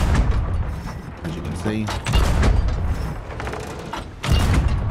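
A ship's cannon in the Sea of Thieves video game fires with a Crimson Crypt Cannon Flare, giving two sharp booming shots amid creaking ship sounds, with someone narrating over them.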